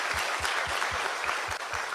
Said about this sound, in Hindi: आपके खुद के लिए ताली बजा लो भैया